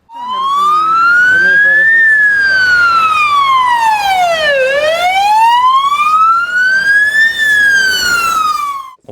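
A wailing ambulance siren sweeps steadily up and down through the streets of Chernivtsi, loud and close, sounding continuously from start to finish over faint traffic rumble.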